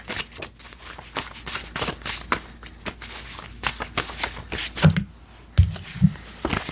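Tarot cards shuffled and handled up close: quick papery riffles and flicks in a loose rhythm, with a few soft thumps as a small stack is dropped back into the deck.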